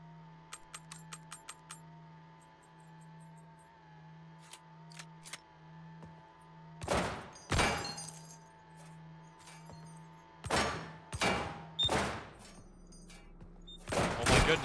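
Gunfire in the video game Receiver: several loud, sharp shots burst out in the second half, two early and a cluster near the end, after a stretch of quiet metallic clicks and light clinks.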